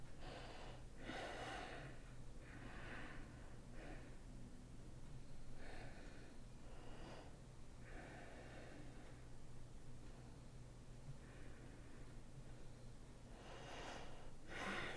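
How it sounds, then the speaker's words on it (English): Slow, deep yoga breaths come close and soft, with about seven breathy inhale and exhale swells spaced evenly over a quiet background. "Take a few nice deep breaths."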